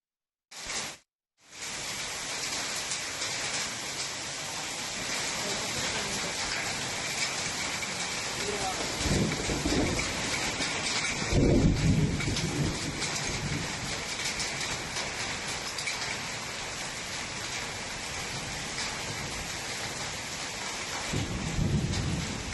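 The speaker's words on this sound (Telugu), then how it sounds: "రాష్ట్రంలో పలుచోట్ల భారీ వర్షాలు కురుస్తున్నాయి" Heavy rain pours steadily in Hyderabad, a dense close hiss throughout, while low thunder rumbles swell through the middle and again near the end.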